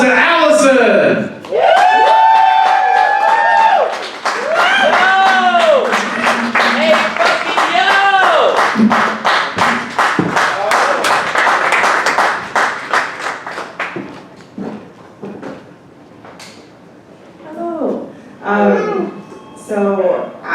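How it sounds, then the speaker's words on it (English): A poetry show audience claps loudly and continuously, with voices and cheers mixed in, then the applause thins out as a poet starts talking. "please give a round of applause to Allison"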